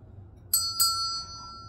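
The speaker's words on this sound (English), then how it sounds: "ring the notification bell" A notification bell dings twice in quick succession, each bright metallic strike ringing on with a sustained tone over a faint low hum.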